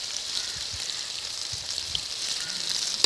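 Meat with turmeric and red chili masala fries in a pan, giving a continuous soft sizzle and crackle at a close, even level with a few faint low knocks and no talk.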